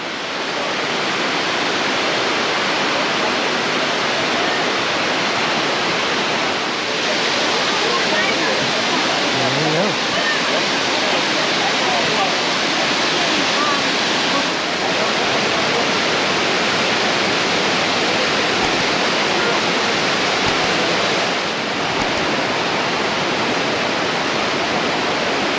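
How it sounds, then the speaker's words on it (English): A tall waterfall drops down a rock slab, a steady dense roar of falling water that holds even and unbroken throughout, with no voices. "And the second falls there."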